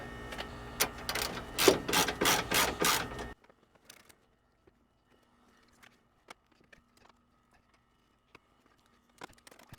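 A ratchet tightens bolts on a Toyota Sienna radiator support with rapid clicking bursts, loud and close for about three seconds, then faint scattered clicks and taps.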